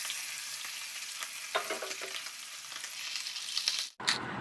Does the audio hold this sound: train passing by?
no